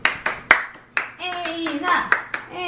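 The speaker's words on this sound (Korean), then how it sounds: "박수. 박수." Hands clap in sharp, separate bursts during a home baking session after a tray of chocolate coffee muffins comes out of the oven. A brief whistle-like tone sounds between the claps.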